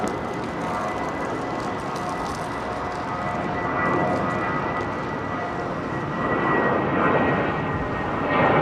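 An old Boeing 777 in new livery takes off from runway 09R at London Heathrow, a steady, broad engine roar heard from a distance that swells gently as the jet climbs away.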